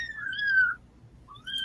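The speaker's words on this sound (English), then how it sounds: "you're probably going to be hearing him squeak all during the stream" A three-week-old kitten named Bootsy squeaking indoors: two thin, high squeaks, the first drawn out and slightly falling, the second shorter, close by over a low background hum.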